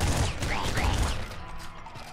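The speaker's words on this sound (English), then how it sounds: "using the triple machine gun with steroids" Dense, continuous triple machine gun fire in Nuclear Throne, loud and close for the whole span, with an overlapping rapid rattle and bursts of higher tones layered on top.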